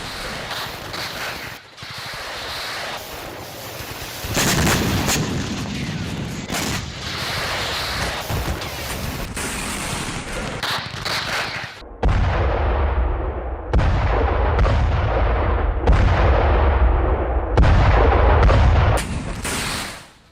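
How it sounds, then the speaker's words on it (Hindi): A rocket attack on Haifa in Israel brings loud, dense booms and rolling gunfire, with repeated heavy blasts and crackling bursts coming in waves throughout and no speech. "इजराइल के हाइफा पर बताया जा रहा है कि रॉकेट अटैक किया गया"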